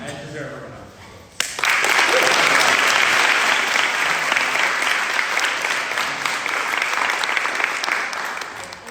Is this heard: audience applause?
yes